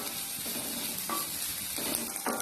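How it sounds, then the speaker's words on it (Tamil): Chopped big onions sizzle and fry in a hot pan for tomato soup, with steady sizzling broken by a few brief stirring scrapes, close and fairly quiet, no talk. "வெங்காயத்தை நல்லா வதக்கிடலாம்."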